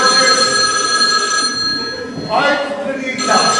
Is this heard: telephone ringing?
yes